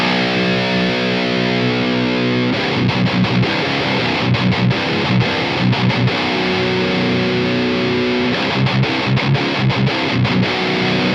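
Heavily distorted electric guitar played through the Aurora DSP Laboga Mr. Hector amp plugin: a sustained chord rings out, then tight, rhythmic palm-muted chugging with sharp stops, loud and up front.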